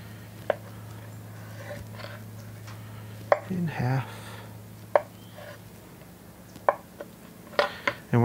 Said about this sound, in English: Now, I'm just going to cut this into little cubes